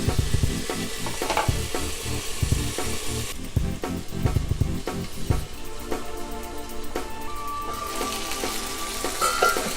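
Tomatoes and onions fry with salt in a covered pan for Malabar egg drop curry, giving a steady close sizzle with frequent clinks and scraping stirs throughout, no talking.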